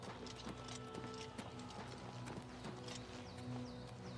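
Video game horse hooves clip-clopping in a steady walking rhythm over quiet ambient background, with faint chirps and small mechanical ticks.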